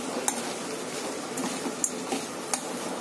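Poha stirred with masala in a pan: soft scraping and stirring with a few light clinks of a spoon against metal, close and steady with no talk.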